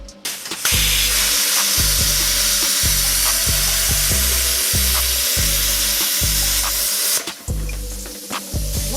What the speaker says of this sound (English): This axle isn't coming off, so I'm just going to plasma cut it.